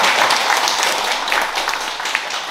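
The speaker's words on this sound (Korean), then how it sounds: "이렇게 또 받으셨으니 감사의 박수 한번 또" An audience at a talk gives a round of thanks, a dense burst of applause that stays loud and steady, then starts to fade toward the end.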